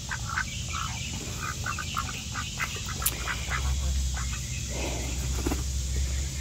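Ducks quack outdoors in a hen and duck yard, with scattered calls over steady insect and ambient noise.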